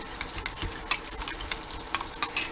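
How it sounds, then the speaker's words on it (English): Smoked sauce mixture being stirred, a close, continuous scraping swirl with light clicks of a utensil against the container, and no talk. "You're going to stir that up."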